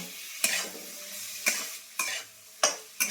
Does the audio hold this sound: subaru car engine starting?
no